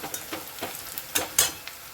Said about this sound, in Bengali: পেঁয়াজটা আরও একটু ভাজা হবে পেঁয়াজটা আর একটু ভাজবো আমি